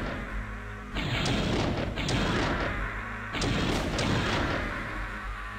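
In the video game Legacy of Kain: Blood Omen, three heavy gunshot-like booms go off in sequence, each a loud sudden burst with a rumbling tail, over a low game drone.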